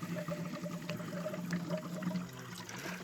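Water trickles and dribbles out of a leaking composite cooling system on a Lincoln while air is bled from it, a faint, continuous, uneven flow with no talking.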